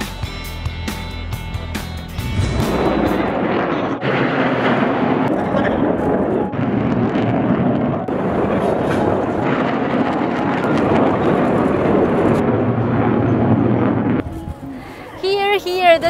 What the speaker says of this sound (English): The thunder made by J-20's engine is just like a dragon's roar.